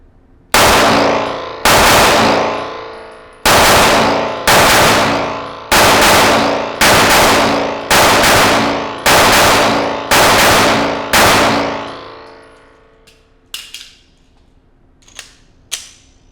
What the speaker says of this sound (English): So let's just throw some rounds here and see how it goes.